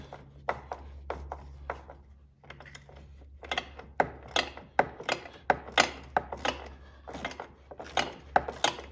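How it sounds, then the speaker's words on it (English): Hand tools work bolts loose on a 2002 Club Car Carryall golf cart, with a ratchet's quick clicking bursts and metallic ticks close by, coming in uneven runs with short pauses between. "Gotta use both the screwdriver and the ratchet."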